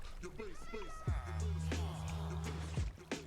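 A Minecraft cat meows several times in hardcore mode, short rising and falling cries close by, with a low thud and tonal game sounds in between.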